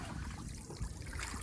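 Water trickling and dribbling off an oyster cage as it is hauled up out of the water, a steady close splashing patter running through the whole short stretch with no talking.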